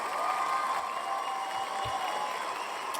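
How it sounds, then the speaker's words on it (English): Steady applause from a crowd, continuous and fairly loud throughout with no voices standing out. "I want you to give a round of applause to Natasha joining us today."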